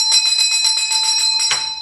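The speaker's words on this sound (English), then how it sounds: "The bell will sound again and the second student will return to do the same things." An exam bell rings steadily in a hospital clinical exam setting, a loud continuous electric ring lasting nearly two seconds with a bright metallic clatter and no talk.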